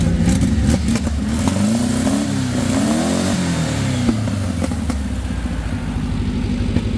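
A VW sand rail engine, freshly repaired after loose electrical connections, runs loud and close for the whole stretch, its rough mid-pitched drone swelling and falling through a couple of revs, with occasional sharp pops and clicks.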